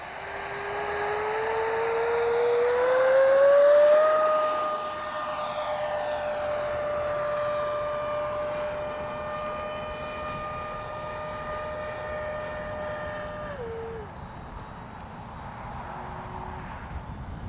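An H-King Flycat V2 twin-motor RC plane flies past with a loud, high electric motor whine that rises in pitch as it climbs, then holds steady before throttling down, with no talking.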